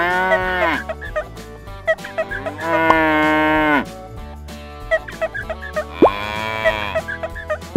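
A toy cow moos loudly while being milked, giving long drawn-out moos with short clicks and plastic taps in the gaps between calls.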